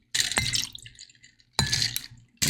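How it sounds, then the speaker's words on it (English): Liquid is poured over ice spheres in three glasses, giving three splashy, bright pours with clinks and a gurgling trickle, close and fairly loud. "And then I'm just going to gently pour this over all 3 of our drinks here."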